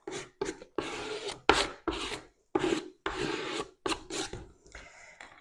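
Burnishing a photo transfer onto its surface: repeated short firm rasping rubs in quick separate strokes, close and fairly loud, with no voice over them.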